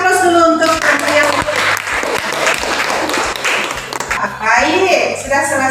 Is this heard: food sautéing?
no